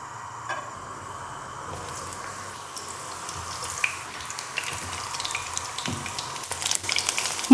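Eggplant frying in hot oil in a pan, a steady low sizzle with faint crackles and occasional clinks and scrapes, building slightly louder toward the end, no voices.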